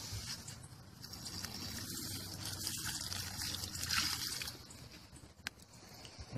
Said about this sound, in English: I'm going to go ahead and use this water and water it.